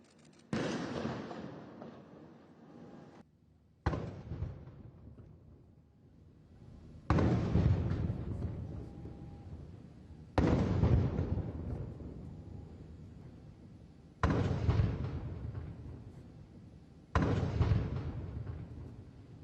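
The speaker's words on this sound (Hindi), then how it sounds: "आज पीएम मोदी को 21 तोपों की सलामी दी गई।" A ceremonial 21-gun cannon salute fires outdoors at an official welcome, heavy booming shots spaced a few seconds apart, each loud report trailing off in a long rumbling echo.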